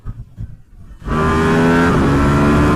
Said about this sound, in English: Hear how well the engine pulls, how it climbs perfect, graceful.